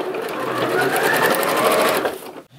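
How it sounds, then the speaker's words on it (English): A sewing machine stitches caution tape onto a DIY jacket, running in a fast, steady close-up whir for about two seconds before slowing and stopping. "Grab this new piece of caution tape and now just go like this and sew it down."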